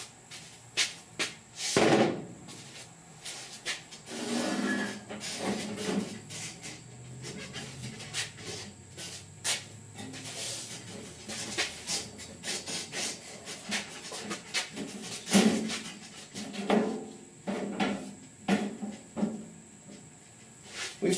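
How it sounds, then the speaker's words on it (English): A hammer and dolly shape sheet metal during heat shrinking work, with scattered sharp taps and knocks in irregular clusters, fairly close, amid rubbing and handling noises. "Hammer and dolly."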